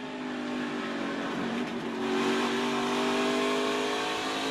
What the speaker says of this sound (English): And you hear Cole Custer downshift into 3rd and then drive away